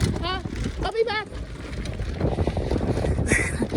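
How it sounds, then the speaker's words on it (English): Gusty desert wind buffets the microphone with broad rumbling noise, while a few high chirping sounds come through early on. "it's quite windy"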